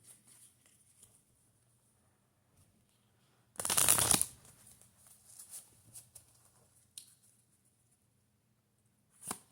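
Love oracle cards are shuffled in one short, crisp riffling burst, followed by faint scattered card handling in an otherwise quiet room.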